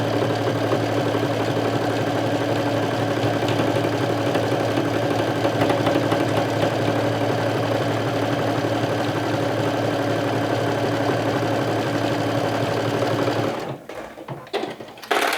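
A sewing machine running a triple stretch stitch along the shoulder and side seams of a garment, a loud, continuous close mechanical whir that holds steady for about thirteen seconds before cutting off and leaving faint handling clicks.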